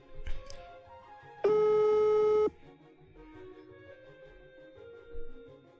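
A phone call over speakerphone: one loud, steady electronic tone lasting about a second stands out from a quiet, faint background with a few murmurs before and after.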